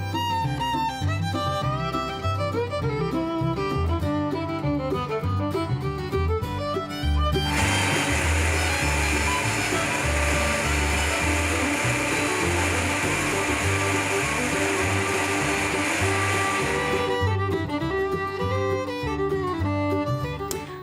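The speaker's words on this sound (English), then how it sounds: "We have ground the roasted oats into a fine powder." An electric grinder whirs steadily for about ten seconds as it grinds roasted oats into a fine powder, starting and stopping abruptly over continuous background music.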